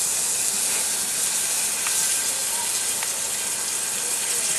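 Foie gras searing in a hot pan, giving a loud, continuous broadband sizzle and hiss that holds steady throughout, close up, with no talking.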